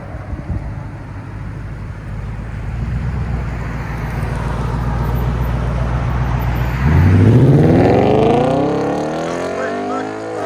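A 2012 Audi S5 with a 4.2L V8 and muffler delete rumbles loudly at close range, its deep exhaust building to a hard revving acceleration as it pulls away.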